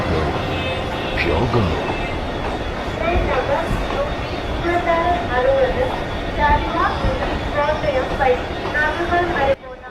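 In the Railworks train simulator, a WAP-4 locomotive hauls the Amritsar–Kochuveli weekly express on an approach, giving a steady loud rumble with rattling and whining tones, while muffled voices carry underneath throughout.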